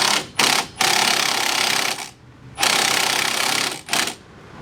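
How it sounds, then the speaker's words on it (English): Impact gun tightening wheel bearing bolts on a 2005-2014 Jeep Grand Cherokee, loud close rattling bursts, two short ones then a long run, a pause, another long burst and two short blips. "let's go ahead and take my impact gun"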